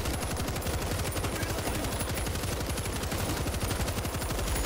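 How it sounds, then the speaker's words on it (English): Sustained rapid machine-gun fire in the zombie shooter World War Z, a dense, continuous rattle of shots at steady loud level throughout, with no voices over it. "I can't get the screamer with the machine gun."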